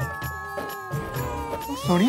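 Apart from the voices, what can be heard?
small baby crying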